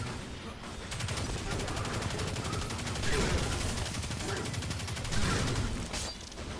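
Rapid, sustained gunfire from enemies shooting in a video game, dense bursts of shots filling the whole stretch at steady loudness, with a couple of heavier swells partway through.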